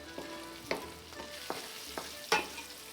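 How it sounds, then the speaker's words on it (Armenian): Boiled lamb meat frying with onions in a pan, with a utensil scraping and stirring in several distinct strokes over a low, steady sizzle. No one speaks. "սոխառածի հետ տապակում ենք խաշված գարան միսը"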